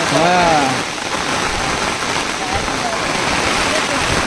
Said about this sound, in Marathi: तो पाऊस बघा